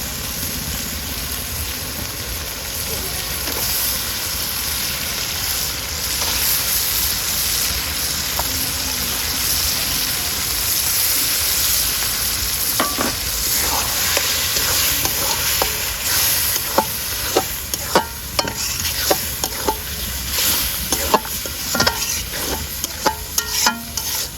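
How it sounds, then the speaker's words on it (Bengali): Washed beef tripe sizzles in a pan and is stirred, giving a steady loud frying hiss with scraping and clinking of the utensil growing more frequent toward the end. "এখন আমি ধুয়ে রাখা ভুড়িটা দিয়ে দেবো।"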